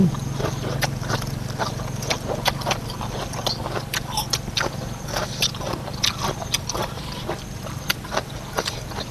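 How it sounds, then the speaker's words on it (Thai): Someone chews a crunchy, spicy Thai papaya-style salad with fresh vegetables up close, a quick irregular series of loud crisp crunches over a low background hum. "เคี้ยวกรอบ"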